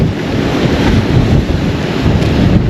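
Strong sea wind buffets the microphone on the shore during a fishing trip, a loud continuous gusty rumble with surf mixed in and no voices.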